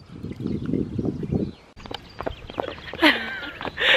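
A few hollow hoof clops of a walking horse, mixed with rustling and some faint voices nearby.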